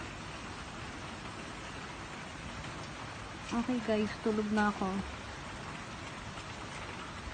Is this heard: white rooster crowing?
no